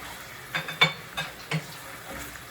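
Minced garlic frying in a pan, a soft sizzle broken by several distinct stirring scrapes and clinks, close and alone with no talk.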